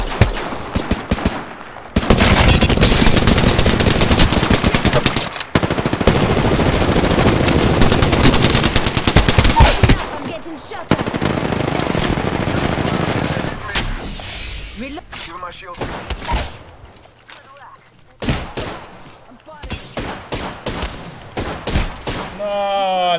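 Rapid automatic gunfire in the battle royale shooter Apex Legends, loud bursts of sustained shooting in the first half, then broken volleys and scattered shots with a person talking in between.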